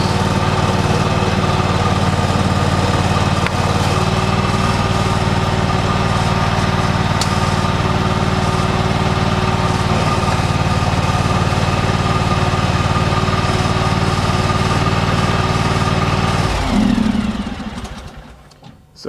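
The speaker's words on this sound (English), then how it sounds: "the snowblower is in fact running" A snowblower engine on a John Deere X530 lawn tractor with a 47-inch blower runs loudly and steadily at an even idle for a long stretch, then cuts out and winds down near the end.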